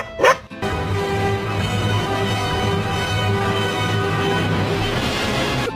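A sick pet dog gives a brief high yip and whimper, then a steady close whining bark-like vocal drone carries on with an even tone, no talking over it.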